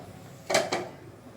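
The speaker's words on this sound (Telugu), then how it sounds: "కుక్కర్ చల్లారిపోయింది. ఇప్పుడు మూత తీసేసుకుందాం." A pressure cooker lid is lifted off after cooking goat head curry, giving two short metallic clanks close by in an otherwise quiet kitchen.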